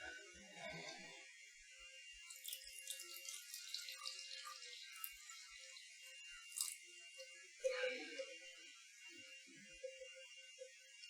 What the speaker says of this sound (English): Now I will pour the water, so you just listen to the sound of the water.